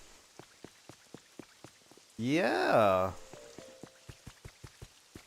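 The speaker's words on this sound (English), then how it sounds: "The longer it rains, the more hydrated everything gets." Rain falls in the Pokemon Pokopia video game as a steady patter of separate drops, with a burst of rising game tones and a short spoken word partway through.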